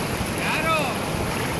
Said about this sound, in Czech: To jsou peřeje, tyjo. Peřeje duní.